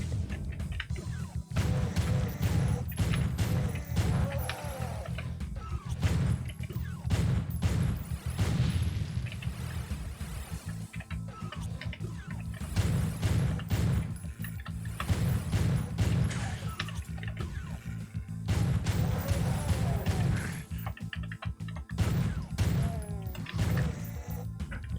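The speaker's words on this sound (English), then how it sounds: "Those chain gunners will ruin your day." Chaingunner enemies firing chainguns in Doom, loud bursts of rapid shots and crashing impacts in repeated clusters, mixed with other game effects and no voice.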